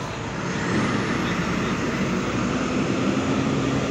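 A bus rumbles with a heavy, steady engine drone at the exit of Purabaya Bungurasih bus terminal, loud and near, with no pauses or talk.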